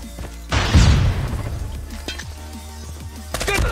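A flashbang grenade goes off in the Call of Duty Mobile video game: a sudden loud, close burst that rumbles and crackles for about a second, then fades into quieter game noise with scattered small impacts.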